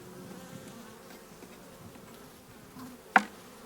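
Steady low hum of many honeybees buzzing nearby during a hive inspection, a continuous droning swarm sound with a brief sharp knock near the end.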